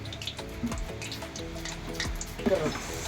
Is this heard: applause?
no